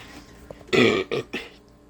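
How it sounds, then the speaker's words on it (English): A short burp after drinking pop, with a single loud belch followed by two smaller throaty bursts, close and alone in a quiet room. "If I burp, I'm sorry. I just had pop."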